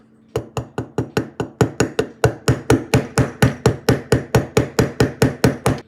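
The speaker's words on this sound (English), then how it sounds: "We're gonna give it another very gentle tap." Gentle hammer taps setting a rivet back into a vintage Evans lighter mechanism, about twenty-five sharp, evenly spaced metallic knocks in a steady rhythm, close and clear with no talk.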